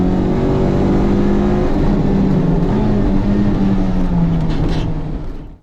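A Toyota MR2 Spyder driven hard on a race track, its engine revving loudly and close, pitch sliding down as it eases through a corner before the sound cuts off abruptly.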